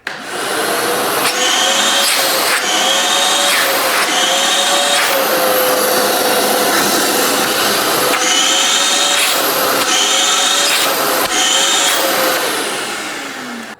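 A Craftsman 110 CFM shop vac runs loud and close with a steady whining roar, its pitch dipping and rising repeatedly as the hose gulps and scrapes along a surface, with no voices over it.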